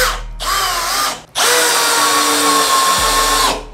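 Bosch GSB 185-LI cordless drill driving a 6x45 screw, two loud close bursts of motor whine, a short run then a longer sustained drive with the pitch dropping as the screw seats, no talking.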